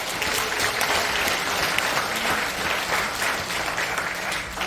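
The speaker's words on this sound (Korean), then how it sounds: "합창단 모든 분과 또 단장님, 지휘자님, 또 반주장님께 큰 박수 부탁드립니다" Audience applause for a church choir, its director, conductor and accompanist at a Christian women's prayer gathering in a library auditorium, sustained moderate clapping from a large crowd, no talking.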